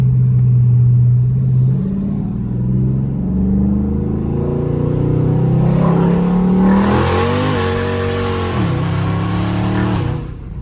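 A tuned Stage 2 Scat Pack car accelerates hard in first gear, engine roaring loud and close as the revs climb steadily. A sharp gear change comes near the end, and the revs rise again.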